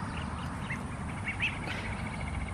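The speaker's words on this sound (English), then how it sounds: "Good morning, baby duckies." Baby ducklings quacking close by: a cluster of soft, high-pitched peeps and quacks, repeated in irregular bursts over steady low background noise, with no talking.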